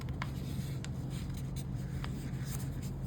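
Sheet of paper being folded into a paper aeroplane, soft close-up rustling and creasing with a few sharper crinkles, steady and quiet with no speech.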